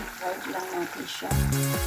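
Tofu sizzles as it toasts in hot cooking oil in a pan, a steady crackling fry that grows louder and brighter partway through.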